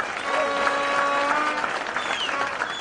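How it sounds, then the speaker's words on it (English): A crowd at a Kenyan political party rally claps steadily in a continuous wash of applause, with some whistles and cheers rising through it. "We need to give you a big, big clap."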